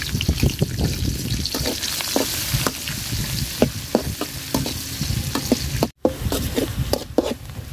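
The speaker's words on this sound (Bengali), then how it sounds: "পেঁয়াজটা লাল লাল করে ভাজা নিছি" Chopped onion and green chili sizzle steadily in a hot pan, with repeated scraping and tapping of a spatula stirring them and a brief dropout near the end.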